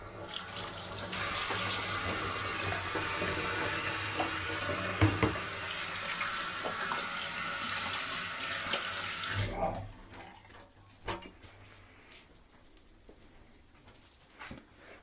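A kitchen tap runs in a steady close rush for about ten seconds while hands are washed, then cuts off, leaving a few faint clinks and drips.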